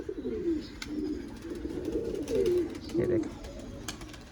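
A pigeon coos several times in soft, low, rolling calls close by, with someone speaking briefly over the birdsound and faint outdoor background noise.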